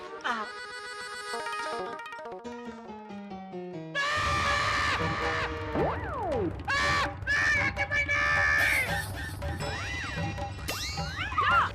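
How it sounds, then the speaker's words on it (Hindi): A man screams repeatedly in fear of an injection in a sitcom comedy scene, the loud wails rising and falling over comic music and cartoonish sliding sound effects. "अरे जेठा भाई ऐसे क्यों चिल्ला रहे हैं?"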